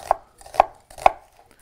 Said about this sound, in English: So that's how I cut onions.